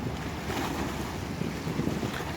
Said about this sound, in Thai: วันนี้ลมเยอะไปหน่อยนะครับ